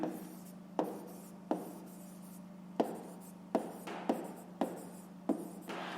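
A pen or pencil writes a fraction on paper, close and quiet, in short scratching strokes broken by about nine sharp taps as the tip lands, with no talk.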